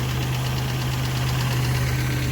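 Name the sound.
engine lifter tap while running after head gasket job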